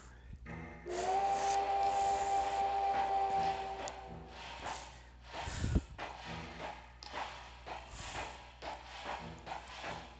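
A steam whistle in the video game Zelda: Spirit Tracks blows a long steady tone for a few seconds, followed by rhythmic chugging and clattering of a moving train.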